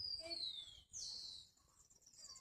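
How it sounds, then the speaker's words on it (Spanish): Thin, high bird chirps sound close by in the countryside, a few short calls followed by faint twittering against a quiet outdoor background. "Mira, los pajaritos se vinieron para acá."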